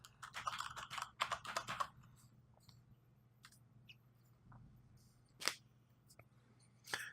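Quick bursts of key clicks as a username and password are typed on a computer keyboard while setting up a router, faint and close in a quiet room, with scattered single taps afterward.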